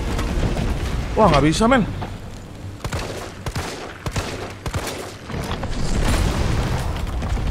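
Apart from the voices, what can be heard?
flame rounds fired at Nemesis in the video game Resident Evil 3 Remake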